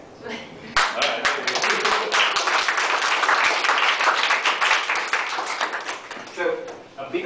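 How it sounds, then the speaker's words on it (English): Lecture-hall audience applauding after a talk on video game development, a dense steady wash of many hands clapping loudly and continuously for several seconds before tapering off near the end. "a bigger round of applause"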